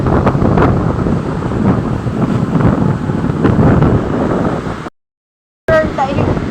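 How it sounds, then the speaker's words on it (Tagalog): Strong wind from Typhoon Uwan in the Philippines roars and buffets the microphone in a loud, steady low rumble, cutting out briefly near the end before gusting back in. "Ayan, sobrang lakas ang hangin."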